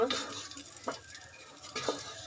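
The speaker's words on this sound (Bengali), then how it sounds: "রাইসগুলি ভাজা হওয়া পর্যন্ত নাড়তে থাকবো একটু পর পর" Rice grains stirred and frying in a pan over medium heat with whole spices, giving a soft steady sizzle broken by a few sharp scraping stirs, close up and fairly quiet.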